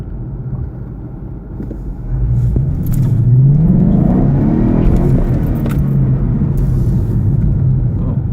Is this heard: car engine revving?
yes